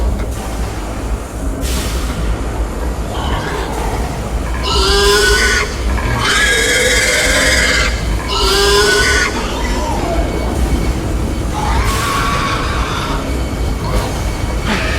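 The pig monster in the horror game Amnesia: A Machine For Pigs lets out a series of loud, guttural grunts and snorts in irregular bursts over a constant heavy mechanical rumble.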